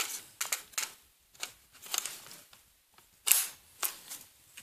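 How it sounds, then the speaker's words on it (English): An AR-15 rifle, a Windham Weaponry build, has its magazine released with the button and dropped out, giving a series of sharp, close mechanical clicks and clacks spaced across a few seconds with no talking. "So, right there is your mag release, that button right there. Drop one out. So you drop out your mag."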